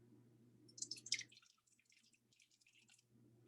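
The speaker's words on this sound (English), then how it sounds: "Second can. I'm going to add some water to it." Water trickles and splashes briefly into an empty metal can, a short burst of pouring and dripping that fades out over a steady low hum.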